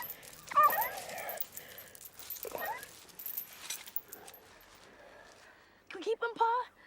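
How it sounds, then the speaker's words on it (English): An injured dog with a hurt leg gives short, high whimpers and yips at close range, mixed with people talking. "It's a dog."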